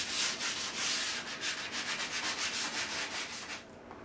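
A mat frame for a concert poster is sanded by hand in quick, even rubbing strokes, close and steady, easing off toward the end with no talking.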